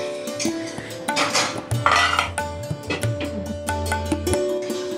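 A lid clatters onto a kadai pan of simmering dhaba-style kadai chicken, with metallic clinks and scrapes of cookware repeating over a few seconds at close range, no voices.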